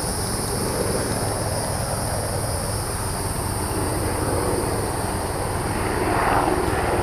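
Aircraft flying overhead outdoors near burial mounds, a steady distant engine drone running continuously at an even level with a broad wash of background noise, no talking.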